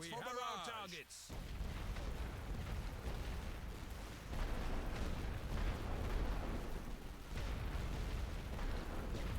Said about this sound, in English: Load for area barrage.